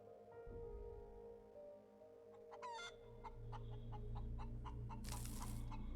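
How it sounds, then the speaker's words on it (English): An immortal chicken in the space survival game Breathedge clucks in a string of sharp, close calls over a steady low mechanical hum, with one brief hiss near the end. "My immortal chicken."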